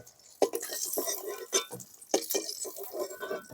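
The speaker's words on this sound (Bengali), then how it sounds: "আমার ভাজা হয়ে গেছে, এবার আমি ডিমগুলোকে তুলে নেব।" Fried duck eggs are lifted out of hot oil in a pan, bringing a soft sizzle with several sharp scrapes and clinks of a metal utensil against the pan at irregular intervals, close and fairly quiet.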